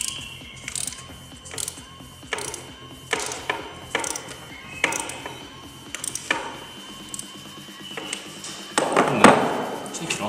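A ratchet clicks while tightening during an oil service on a BMW 330i with the N53 engine, short bursts of metallic ticking with clanks and knocks in between, close by.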